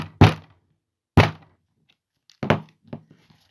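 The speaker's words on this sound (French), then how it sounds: "Donc, bah, tant pis, on va taper fort." Hard blows struck onto thick layered card during card crafting, two loud close thunks followed by a few softer, quicker knocks.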